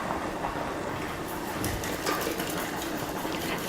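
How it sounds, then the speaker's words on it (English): A whisk runs steadily through a roux thinned with white wine, giving a constant close scraping and swishing with no talk over it. "So I'm gonna switch over to a whisk at this point."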